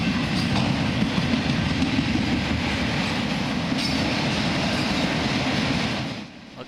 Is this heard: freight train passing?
yes